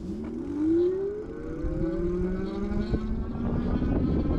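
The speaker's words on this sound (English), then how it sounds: "So I'm here at 0, and I'm going to do a throttle test." An Electric Bike Company Model J e-bike, set to class 2, accelerates on throttle alone from a standstill, its electric motor giving a steady whine that climbs in pitch over several seconds, close and fairly loud.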